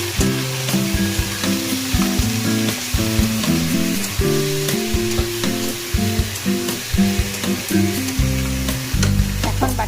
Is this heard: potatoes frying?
yes